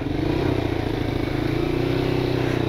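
Motorcycle engine labouring on a steep off-road climb, losing power and then catching again, a loud, steady close-up drone with rough clattering pulses throughout and no talk.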